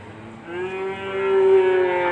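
A single cow moos loud and close, a long drawn-out bellow rising and holding for nearly two seconds while cattle are gathered for loading onto a pickup truck; no talking.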